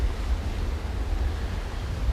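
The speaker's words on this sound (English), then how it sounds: "the wind all of a sudden is gusting. It's just picked up." Strong gusting wind roars steadily across an open golf course during a women's professional tournament in South Africa. It buffets the microphone in a dense, continuous rumble with no voices.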